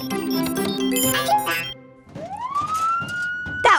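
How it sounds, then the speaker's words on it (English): A cartoon-style nee-naw siren rises in pitch and holds steady after a stretch of busy playful music, sounding loud and close, with no speech. "We need a nice loud nee-naw sound."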